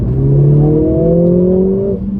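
Mercedes-Benz A45s AMG hatchback with 4MATIC four-wheel drive accelerating hard, a loud steady engine drone with rising pitch and a smooth, continuous roar from start to finish.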